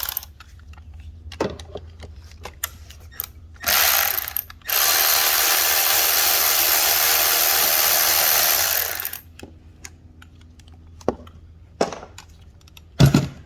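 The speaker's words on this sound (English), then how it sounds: "there is a 10mm bolt right here, and we are gonna go ahead and take that off" A hand ratchet works loose a 10mm bolt on the oil control valve of a 2014 Chevy Malibu, with scattered clicks and taps, then a burst of rapid ratcheting from about 4 to 9 seconds, close by, with no talking.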